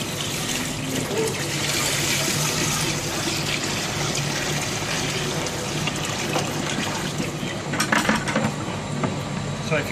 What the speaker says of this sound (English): then we'll tip the water in